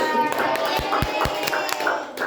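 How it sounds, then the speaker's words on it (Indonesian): A small classroom group claps for two students, Desi and Dera, with scattered, uneven hand claps over a low background murmur. "Tepuk tangan buat Desi sama Dera"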